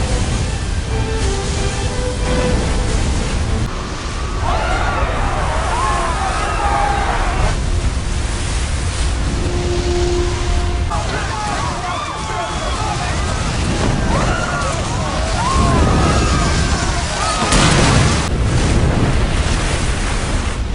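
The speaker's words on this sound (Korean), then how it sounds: "계속되는 후속 파도가 순식간에 도시를 집어삼키죠" Dense roaring rush of tsunami waves flooding a city in a film, surging water and wind loud and continuous throughout, with scattered cries and voices faintly mixed in.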